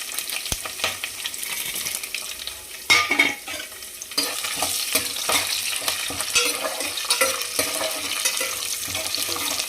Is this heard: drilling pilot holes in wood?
no